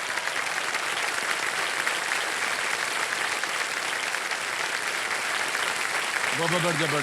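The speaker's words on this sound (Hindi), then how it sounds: "जोरदार तालियां एक बार हमारे जितने भी कंटेस्टेंट हैं उनके लिए" Loud, sustained applause from a TV quiz show studio audience fills the scene, dense clapping with no pause, and a voice begins speaking over it at the very end.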